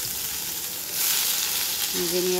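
Potato and pointed gourd fry in hot oil in a wok with a bright, continuous sizzle that swells louder partway through, heard up close without talk.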